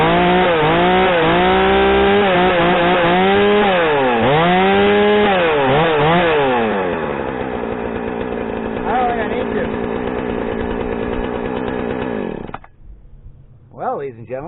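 A Husqvarna 455 chainsaw with a newly replaced carburetor runs loud and close, revving up and down in repeated swells before settling into a steady idle, then cuts off abruptly near the end.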